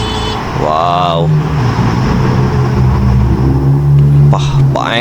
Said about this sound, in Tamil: பட் நல்லாவே இருக்குது அந்த கார் சவுண்ட்